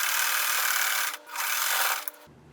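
A sewing machine top stitches denim and fabric scraps with nylon thread, its motor buzzing in a fast, steady whir that pauses briefly and then resumes before stopping, close up.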